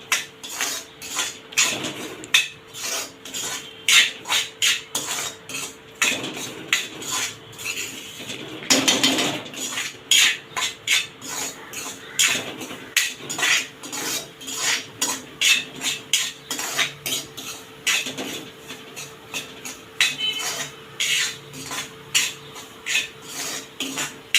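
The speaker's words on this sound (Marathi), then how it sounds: "मी थोड्या रव्याबरोबर त्यांना भाजून घेते।" A spoon scrapes and stirs semolina roasting in ghee in a metal pan while making prasad sheera. Repeated close scraping strokes come in an uneven rhythm throughout, with no talking.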